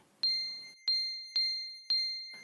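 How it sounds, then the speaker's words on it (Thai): Four clear, high metallic dings from temple eave bells stirred by the wind, evenly spaced and ringing out alone, each with a bright sustained tone that fades before the next strike, over a faint windy background. "ลมพัดกระดิ่งชายคาอุโบสถ ส่งเสียงประสานแหลมดัง"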